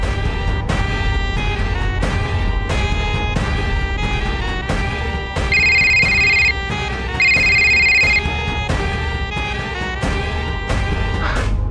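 A telephone ringtone plays steadily over a repeating electronic melody, with brighter sustained tones rising partway through, loud and continuous with no talk.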